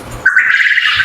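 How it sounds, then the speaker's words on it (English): A rooster on a homestead farm gives a short, sharp, high-pitched crow, close and loud, rising suddenly and holding for under a second. "that is the crow of the rooster"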